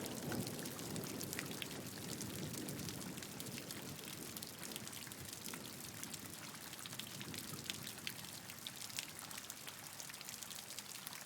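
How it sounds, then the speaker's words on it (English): Heavy rain pours steadily on a window pane at night, a dense continuous hiss with scattered close drops pattering throughout, loud and unbroken, with no voices. "The rain fell in thick sheets, beating against my window pane with a relentless rhythm."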